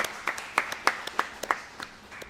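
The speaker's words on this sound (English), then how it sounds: "Let's give him a round of applause." A small group giving a round of applause at a morning gathering, with sparse, irregular claps of a few hands, quiet and fairly close, fading out after about two seconds.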